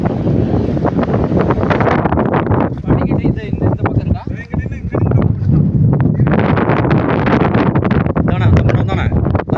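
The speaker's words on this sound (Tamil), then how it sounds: "காற்று ஃபுல்லாக அடிக்குது" Strong wind roars and buffets the microphone continuously on a rocky hill fort at Sankagiri, loud and close, with rustling underneath and brief lulls.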